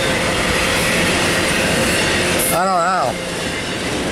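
A train rumbles loudly and continuously nearby, with a brief warbling tone near the end and a short spoken phrase under the noise.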